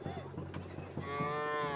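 Cattle low and moo at a manjuvirattu bull-taming event at a village temple festival in Sivaganga, with a deep, drawn-out moo swelling near the end over faint outdoor crowd noise.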